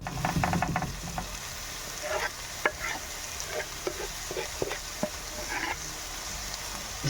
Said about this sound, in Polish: Taka smażona marchewka z cebulką. Na masełku odda cały aromat tej naszej zupie.